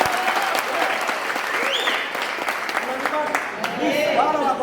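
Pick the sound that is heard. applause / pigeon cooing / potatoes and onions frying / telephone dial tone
applause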